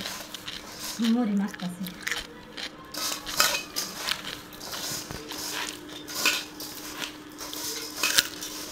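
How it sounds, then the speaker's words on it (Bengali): Puffed rice (muri) mixed by hand in a bowl with green chillies while neighbours share iftar, heard as irregular crunchy rustling and clinking of the bowl under near-constant conversation. "এই যে মুড়ি মাখতে আছে"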